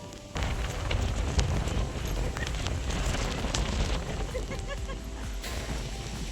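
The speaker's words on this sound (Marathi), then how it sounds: "जोरदार सोसाट्याचा वारा सुटलाय" Strong gusty wind in a May rainstorm in the Konkan roars and buffets across the microphone after a brief quiet start, a continuous rushing noise with uneven surges.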